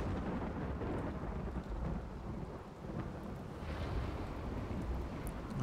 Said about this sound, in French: En même temps, il pleut.